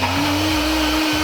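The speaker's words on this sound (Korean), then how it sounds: "믹서기로 갈아줄 거예요." A blender whirs loudly through bulletproof coffee, a short burst of steady high-pitched motor whine that cuts off abruptly, close with no voices.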